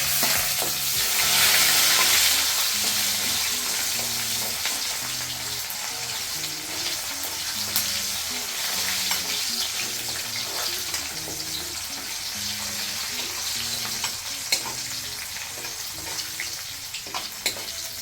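Onions frying with cumin in a pan for chicken gravy, a dense, loud, steady sizzle and crackle throughout, with faint rhythmic low clatter underneath and occasional clicks, heard close with no talking.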